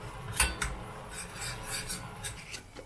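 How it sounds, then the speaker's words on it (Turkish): Tomato and pepper paste sauce stirred in a pan produces a close, rasping scrape with a few sharper knocks, continuing steadily without talk. "Şimdi bunu güzelce karıştıracağım."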